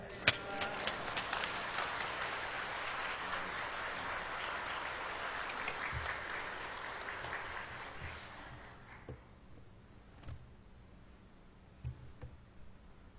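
A church congregation at a Korean Full Gospel worship service claps loudly in a dense, sustained burst to welcome a pastor, then the applause thins out and fades to scattered quiet noises.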